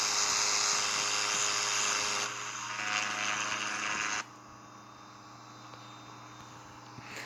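Single-engine turboprop drone of a Cessna 208 climbing out after takeoff from Punta Gorda in the Infinite Flight simulator, a steady whining roar that drops in level twice, then holds constant and alone.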